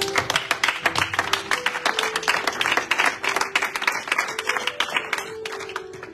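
A church congregation bursts into rhythmic applause to acclaim the Holy Spirit, many hands clapping steadily and close with a faint sustained tone underneath.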